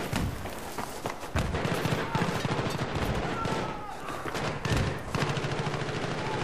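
Rapid, dense bursts of fully automatic fire from an AUG A3 rifle in the Battlefield 3 video game, sustained strings of shots with brief pauses, loud and close.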